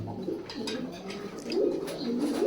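Soft, repeated cooing of pigeons, several low throaty calls overlapping close by over a steady background.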